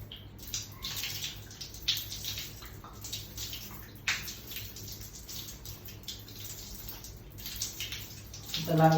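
Water runs from a tap while hands are rinsed during a handwashing demonstration, a soft steady splashing stream with small irregular spatters, fairly quiet and continuous, ending with a brief louder knock.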